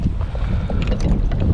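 Gusty wind buffets the microphone on open estuary water while kayak fishing on the flats, a steady low rumble with small splashes and lapping water throughout the short stretch.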